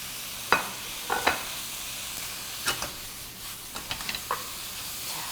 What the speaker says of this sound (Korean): 떡을 넣고 볶다가 요 채소들을 섞어 보도록 하겠습니다